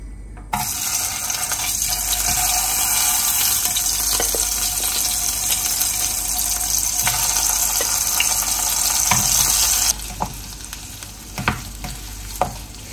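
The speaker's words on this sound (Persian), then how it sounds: "روغن که داغ شد حدوداً 3 قاشق غذاخوری پنیر بهش اضافه میکنیم." Cheese frying in hot oil for a traditional Gilani toasted-cheese dish, a loud continuous sizzle with scraping and stirring clicks from a spoon, the hiss easing slightly near the end.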